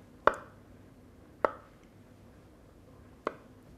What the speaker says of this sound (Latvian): Burtiski sakapājam viņu tā.